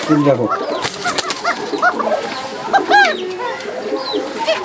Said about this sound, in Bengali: এটা ডিমওয়ালা কবুতরের ডাক